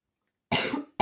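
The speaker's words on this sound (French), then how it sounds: "je suis désolée de tousser comme ça." A woman coughs once, a single harsh close burst, then a second cough begins right after.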